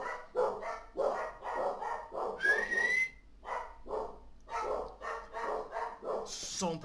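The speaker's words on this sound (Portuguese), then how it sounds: "ultimamente eles têm latido" Dogs barking repeatedly in a quick, uneven series, fairly close, with a brief whistle-like tone partway through and a sharp high yip at the end.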